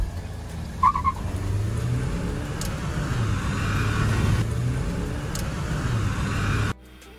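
Mahindra XUV300 petrol and diesel SUVs accelerating hard in a drag race, a loud continuous engine and road roar with rising pitch sweeps that cuts off abruptly near the end.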